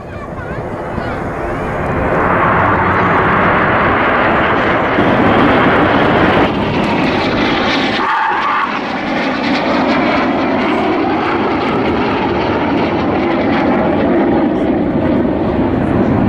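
Aerobatic display aircraft at a 2015 seaside airshow roar through a vertical break manoeuvre, a loud sustained engine drone swelling and shifting overhead, with a commentator talking over the public address.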